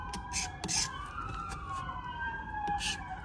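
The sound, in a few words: emergency vehicle sirens in the background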